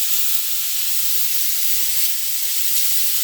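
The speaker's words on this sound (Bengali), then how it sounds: "এভাবে চারদিক ঘুরিয়ে ঘুরিয়ে কিন্তু এটাকে ফ্রাই করে নিতে হবে।" Chicken kathi kebab frying in a spoonful of ghee on a tawa, giving a loud, even, continuous hiss of sizzling fat that holds steady from start to finish, no speech.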